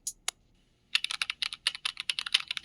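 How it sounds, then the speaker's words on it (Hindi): Rapid computer keyboard typing, a burst of close, crisp key clicks in an uneven rhythm after a couple of isolated taps and a short pause, heard alone without any talking. "जो कीबोर्ड वाला है"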